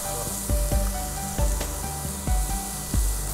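Onions sizzle steadily as they sauté with salt in a hot pan, with several soft scraping stir strokes recurring through the close, even frying sound.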